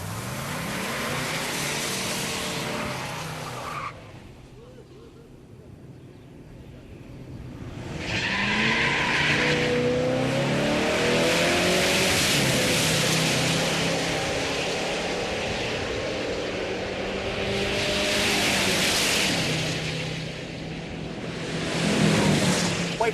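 A Chevrolet LS6 muscle car with automatic transmission and tall gearing accelerates with its tires spinning, engine revving loudly over squealing, skidding rubber in long surging bursts, close and without talk.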